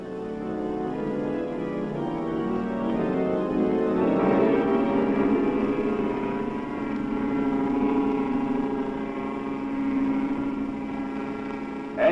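A deep, steady drone of ship engines running dead slow ahead rumbles continuously, swelling slightly in the middle.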